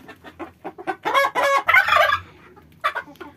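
Chickens cluck and squawk on an Egyptian rooftop, a close, loud run of rhythmic clucks building into a longer excited cackle, then a few more short clucks.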